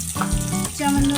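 Mustard seeds spluttering in hot oil in a pan while cooking a Kerala-style curry, a close, steady frying sizzle with a few brief crackles over about a second, no voices.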